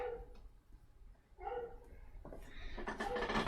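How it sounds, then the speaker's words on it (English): A dog in a home workshop gives a few short, muffled barks, then louder sharper yips toward the end, mixed with faint household clatter. "that's how she's barking"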